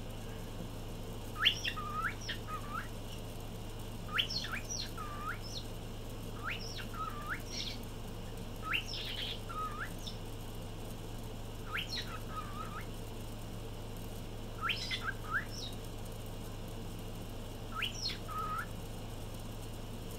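A pet cockatiel named Jazz gives repeated short chirps and upward whistles in small bursts, close and clear over a low steady indoor hum.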